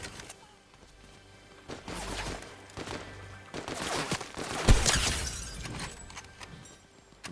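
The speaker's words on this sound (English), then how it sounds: "I hit him with one shot behind this tree where you're going." Gunfire in the video game Fortnite during a Zero Builds match, a few sharp shots and a burst of crashing impacts amid game ambience, moderately loud, with no talk.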